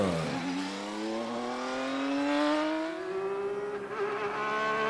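An IndyCar race car on a qualifying run at Nashville accelerates through the gears, its engine note climbing in a loud rising whine that holds steady as the car speeds along.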